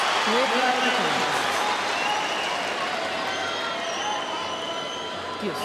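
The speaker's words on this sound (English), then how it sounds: "Oh, crowd are just loving this." A tennis crowd at the Australian Open, Dokic versus Kleybanova, claps and cheers loudly in a sustained roar that slowly eases, with commentators talking over it.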